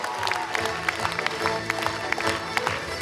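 Theatre audience at a festival closing award ceremony applauds an actress, fairly loud clapping with scattered individual claps standing out over a murmuring hall.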